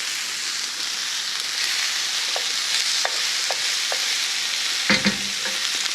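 Pressed garlic sizzles in a hot pan for asparagus pasta primavera, a steady bright frying hiss broken by a few light clicks of stirring and a louder scrape near the end.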